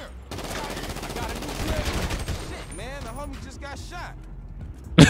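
Rapid bursts of automatic gunfire crackle through a GTA 5 street scene, the shots merging into a sustained volley with voices talking over them and a sharp final crack.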